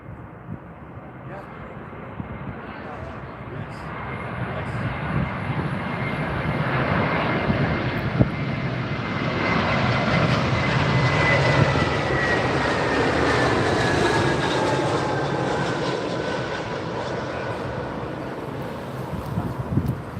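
A British Airways airliner on final approach to land on runway 27R at London Heathrow, its broad engine roar swelling steadily and staying loud and close for about twenty seconds, with talk heard over it.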